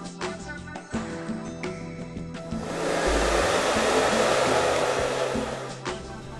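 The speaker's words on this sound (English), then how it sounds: "So now we're going to blow dry the hair" A hair dryer blow-drying curly hair straight starts with some handling clatter, then runs as a loud, steady whooshing roar that swells and holds close by for several seconds before easing off.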